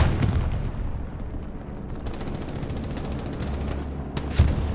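Rolling explosions and gunfire from an Axis bombing run in Hell Let Loose on the Stalingrad map, dense continuous battle noise with low rumbling booms and a sharper blast near the end.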